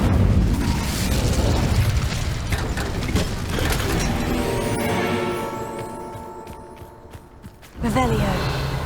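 Incendio fire spell cast in Hogwarts Legacy inside a catacomb: a loud, dense roaring burst of flame that thins into a ringing, tonal shimmer, then a second sharp whoosh flares up near the end.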